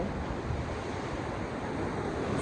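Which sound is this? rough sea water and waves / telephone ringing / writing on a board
rough sea water and waves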